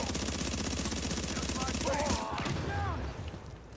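Rapid automatic gunfire in The Division during a global event, sustained bursts crackling close and loud for most of the stretch before easing off near the end.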